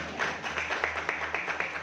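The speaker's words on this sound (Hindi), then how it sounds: "ताली बजा सकते हो आप" Audience clapping in a lecture hall during a Hindi talk on the brain's role in writing poetry, a steady burst of applause that holds for about two seconds with rhythmic claps through a diffuse crowd wash.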